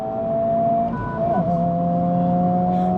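Steady engine drone and road roar from inside a new Honda Civic Type R at about 100 mph, with tonal hums shifting slightly as the engine changes pitch.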